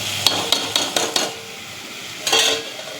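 Spoon scraping and stirring spices (salt, turmeric, cumin and coriander powder) into a curry in a metal pan: a series of quick, close clinks followed by a brief sizzling scrape, no voices.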